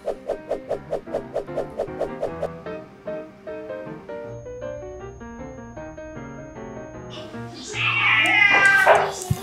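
A newly adopted kitten gives a few high, wavering meows near the end, after a stretch of rhythmic musical notes.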